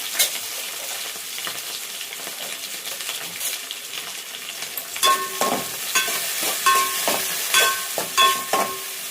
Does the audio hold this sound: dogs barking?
no